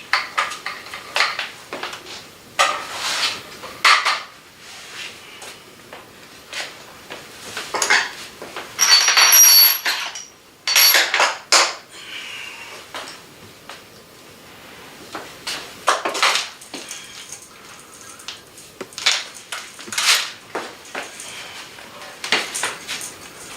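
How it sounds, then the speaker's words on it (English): A toilet is lowered and set over the closet flange during a bathroom remodel, giving scattered porcelain knocks, scrapes and clunks at close range in irregular bursts with brief pauses. "Now next we're going to set the toilet over the closet flange."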